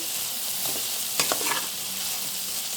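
Brinjal pieces sizzle steadily in a pan as a spatula scrapes through them with a few quick strokes, close and continuous.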